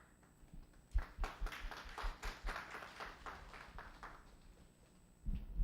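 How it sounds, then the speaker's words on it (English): Audience members at a business conference clap for a short burst, starting as scattered claps, building to a moderate patter, then dying away. The sound stays fairly quiet and distant, with faint room noise before and after. "Usually, you clap after the speaker, but I know why you clapped my speech"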